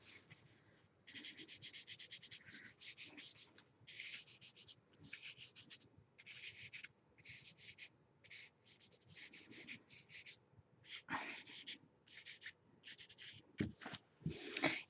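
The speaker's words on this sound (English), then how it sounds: "what does it do when you use your finger is it smears" A finger rubs and smears 3B charcoal pencil on paper in a quiet, close series of soft scratchy strokes that come in short bursts with brief pauses.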